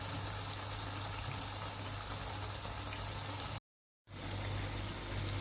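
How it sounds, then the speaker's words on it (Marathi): Methi vadas deep-frying in hot oil over a medium gas flame, a steady dense fizzing and crackle that runs on evenly, with a brief dropout near the end before the sizzle resumes. "वडे आपल्याला मीडियम गॅसवरती फ्राय करायचे आहेत।"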